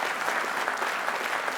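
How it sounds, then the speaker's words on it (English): Audience members at an evening show clap steadily together in a dense, continuous wash of applause, with a few shouts mixed into the crowd noise and no talking over it. "Give us a clap and a shout."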